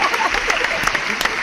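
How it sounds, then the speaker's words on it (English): Brief burst of audience clapping at a live Knicks podcast taping, close and loud, with distinct individual claps mixed over voices talking. "I got the people to clap for me"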